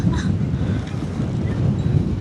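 Strong wind roars steadily and loudly across the microphone throughout, a continuous low buffeting with no pauses, outdoors near the sea at the Çanakkale Martyrs' Memorial.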